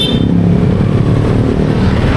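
A motorcycle passes close by on a street, its loud, steady engine rumble filling the whole moment without letting up.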